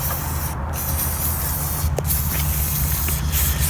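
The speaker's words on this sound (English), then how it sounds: "I'm just going to use the WD-40 and just clean it out a little bit" WD-40 aerosol sprays into a clogged paint sprayer pump in steady close hisses, with two brief breaks, over a low hum.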